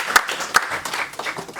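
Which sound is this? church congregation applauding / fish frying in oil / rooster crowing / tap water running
church congregation applauding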